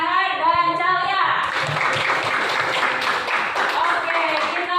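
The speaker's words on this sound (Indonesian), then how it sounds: "Bagus, tepuk tangan untuk Bahar dan Calia." In a classroom, students clap for classmates: a teacher's voice leads in, then a burst of brisk group clapping follows and continues steadily to the end.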